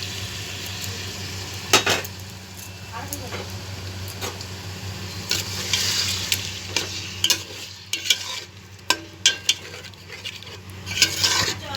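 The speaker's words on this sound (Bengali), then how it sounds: "ভালো করে একটু কষিয়ে নিই।" Marinated chicken for biryani stir-fried in a pan, with a steady sizzle under repeated sharp scrapes and knocks of a spoon against the pot, all close and without speech.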